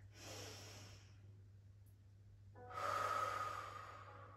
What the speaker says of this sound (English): now lying on your back, I'd like you to take a deep inhale